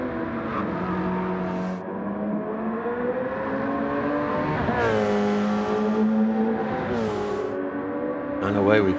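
Race cars in a racing video game tear down the Mulsanne straight, engines droning and shifting pitch continuously as they accelerate and pass, with a louder rising whine near the end.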